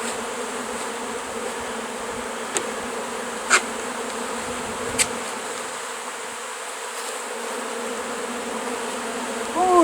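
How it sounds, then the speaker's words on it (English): Bees from a large beehive removed from a structure drone in a steady, dense buzz, close and continuous, with a few sharp clicks and taps over it and no talking. "Ooh, they got some bees."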